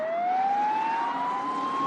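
A police car siren wails in a single rising sweep that climbs smoothly and then holds high, loud and close, with faint road noise underneath.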